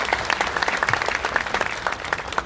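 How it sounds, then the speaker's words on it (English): Audience applause at the 39th Botswana Sport Awards ceremony, a dense, steady patter of many hands clapping at moderate volume throughout, with no talking over it. "let's give him a round of applause again"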